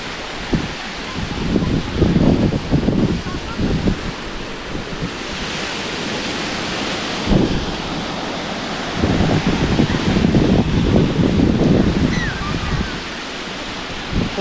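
Ocean waves at Puri beach surge and wash ashore in repeated broad swells of roaring surf, close and loud, mixed with wind buffeting the microphone and no clear talk.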